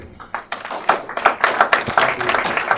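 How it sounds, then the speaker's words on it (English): A small audience at a blockchain conference in Ghana gives sparse, irregular clapping, individual hand claps distinct and near, building into a modest round. "he's going to steer the panel discussion right now with a big round of applause"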